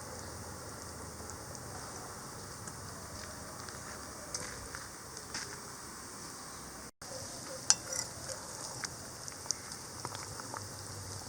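Nethili (anchovy) fish curry simmers in a pot on an outdoor village stove, a steady soft bubbling hiss running throughout with faint outdoor background noise and a few louder pops toward the end.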